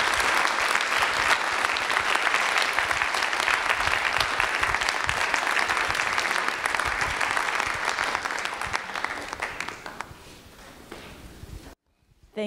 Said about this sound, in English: So a big round of applause for everyone that was involved in putting this together.